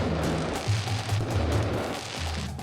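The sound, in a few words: fireworks and petardos going off at Fallas festival, Spain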